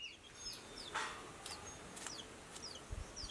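Backyard chickens cluck softly and sporadically, with a few brief calls spread across a quiet, faint background.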